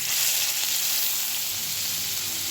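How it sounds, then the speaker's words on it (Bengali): Steady, dense sizzling of onion and crushed garlic frying in hot oil, continuous and close, with no voices. "পেঁয়াজ আর রসুনটাকে তেলের মধ্যে একটু ভালো করে ভেজে নেব"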